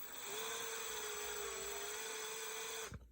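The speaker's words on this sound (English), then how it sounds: "I'm going to put my drill on that little spot and very slowly" A drill whines steadily at high pitch for a few seconds, close up, slowly boring into a glass tumbler, then stops abruptly with a small knock.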